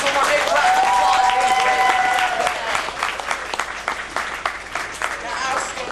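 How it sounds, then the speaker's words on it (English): A backlot tram tour crowd at Disney-MGM Studios applauds the actors and actresses, loud and close at first, then thinning to scattered claps, with a sustained whistle or cheer early on and faint voices mixed in. "Let's give our actors and actresses one more big round of applause."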